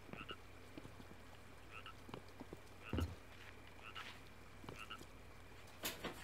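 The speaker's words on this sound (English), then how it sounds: "Ooh, I hear frog." Frogs croaking at night near water in the video game Maquette, a few faint repeated croaks spaced through a quiet ambient background, with occasional soft clicks and thumps.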